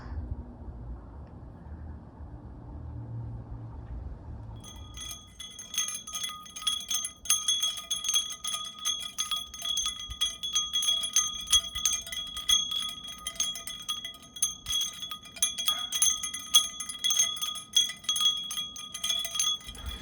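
Solar-powered, color-changing wind chimes ring continuously outdoors, a dense shimmer of bright metallic tones that begins abruptly after a quiet start and keeps tinkling and overlapping without pause.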